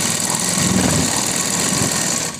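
A sewing machine runs steadily while stitching a kurti, its motor giving a close, continuous whirring hum with a faint rapid needle rhythm for the whole stretch.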